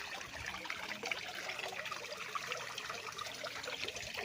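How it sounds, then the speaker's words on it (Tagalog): Water pours steadily from a small fountain into a backyard fish pond at a rural resthouse property in Cavinti, Laguna, a faint, continuous trickling splash with no one talking. "Yan, tuloy-tuloy po ang agos nito."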